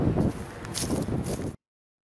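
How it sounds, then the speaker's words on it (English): Wind gusts outdoors during lawn care work, rumbling heavily against the microphone in loud, uneven buffeting bursts with rustling on top, then cutting off abruptly. "The wind has kicked up"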